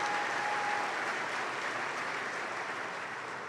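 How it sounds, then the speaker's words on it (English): Steady audience applause fills a dinner banquet hall after a keynote introduction, a dense, even wash of many hands clapping at a fairly close, constant level throughout. "Please give Chad another big round of applause."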